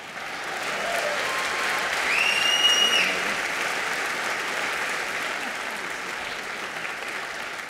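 Steady, enthusiastic audience applause fills an awards ceremony hall as a presenter is welcomed, rising briefly and then holding at an even level.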